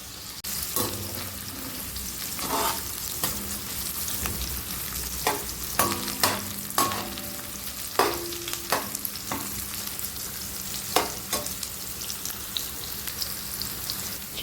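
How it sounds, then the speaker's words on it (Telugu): Cauliflower frying in a pan with a little oil, giving a steady low sizzle with scattered crisp pops and the clack of stirring that grows busier midway. "ఇది వేగిపోతాయి"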